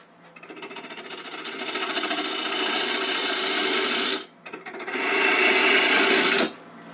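A 1/2 inch bowl gouge cuts wood spinning on a lathe, a loud, steady, close rasping scrape that builds, breaks off sharply for a moment, resumes and then stops.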